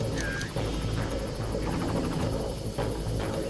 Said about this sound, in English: And I hear the helicopter, but I don't know where it is.